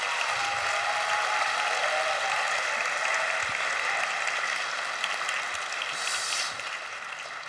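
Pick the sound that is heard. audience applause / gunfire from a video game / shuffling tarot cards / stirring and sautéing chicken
audience applause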